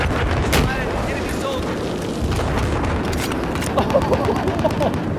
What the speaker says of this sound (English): That guy turned right into my RPG.